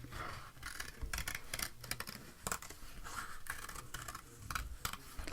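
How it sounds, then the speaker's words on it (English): Scissors cut around a paper circle in a craft project, giving a steady run of close, crisp snipping and scratching sounds over about five seconds with no talking. "cut out your circle. There we go, round and round."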